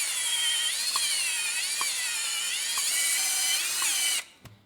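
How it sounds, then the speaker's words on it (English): A drill spins a valve lapping tool with grit against a valve seat during a 4th-gen Trans Am engine build, a loud continuous high whine with brief dips about every second, then cutting off abruptly near the end. "So I'm working the drill just every couple of seconds and bring that grit back out to where it needs to be."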